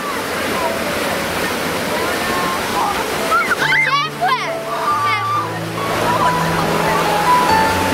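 Broad steady wash of sea surf rolling onto a beach at a Polish scout camp on the coast in July, constant and fairly loud throughout, with children's voices and chatter mixed over it in the middle.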